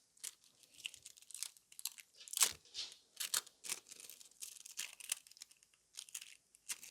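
Crisp crinkling and crackling of thin metallic nail foil pressed and peeled off a black and gold autumn nail design, a close, quiet string of short rustly bursts with small gaps, no talking.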